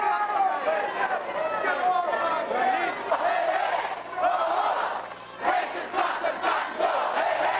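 A rioting crowd on Yonge Street in Toronto in 1992, a dense roar of many shouting voices that stays loud and continuous, with a brief dip midway before the yelling surges back.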